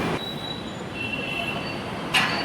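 A Mumbai metro train pulls in with a thin, sustained wheel squeal on the rails over a steady rumble, and a brief louder screech near the end.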